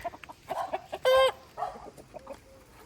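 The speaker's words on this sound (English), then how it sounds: "You might have to wait to have your own chickens." Soft chicken clucks up close, punctuated by one loud, drawn-out squawk in the middle, then more low clucking.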